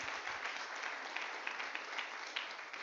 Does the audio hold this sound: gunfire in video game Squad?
no